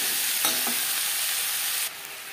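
Potatoes, onion and tomato are stirred in a hot pan, a spoon scraping and turning them over a steady sizzle of frying, with a couple of sharper scrapes before the sound drops quieter near the end.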